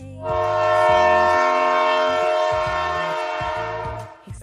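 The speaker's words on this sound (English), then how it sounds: "This is a train." A train horn sounds one long, loud, sustained chord that swells in at the start and holds steady for about four seconds before fading, with no talk over it.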